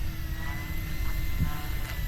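An E-flite Turbo Timber Evolution V2 RC floatplane taxiing, with a steady electric motor whine held at low throttle and a faint outdoor wind backdrop, moderately distant and with no talking.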